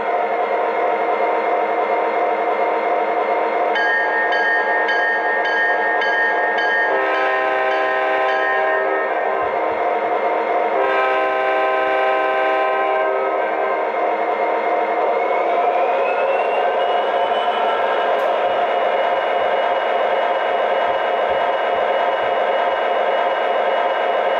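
A Great North Hustle Muscle O scale SD45 model diesel locomotive engine hums and throbs steadily, loud and continuous, with its pitch shifting as it revs up.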